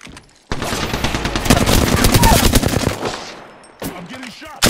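Rapid automatic gunfire from an Apex Legends match rattles loud and close for about three seconds, stops briefly, then resumes in a short burst, with faint game voice lines mixed in.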